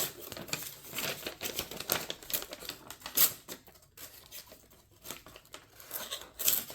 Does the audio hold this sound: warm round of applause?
no